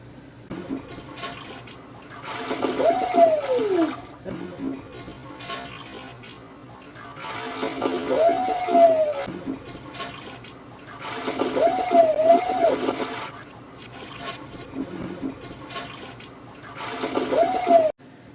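A toilet flushing repeatedly while clearing heavy silt, with rushing water swelling in bursts around 2.5–4, 7.5–9.5, 11–13 and 17 seconds; each surge is loud and close, with whistling refill tones between the flushes.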